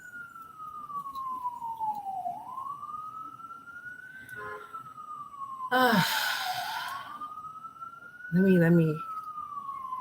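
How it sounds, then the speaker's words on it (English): Emergency vehicle sirens wail outside in a slow rising and falling sweep that carries through the whole stretch, moderately distant, while a person sighs and speaks briefly in between. "sirens."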